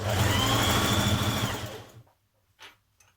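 A sewing machine running a stretch stitch along a skirt seam, a loud close motor whir with rapid needle chatter for about two seconds, then stopping, followed by a couple of faint handling sounds.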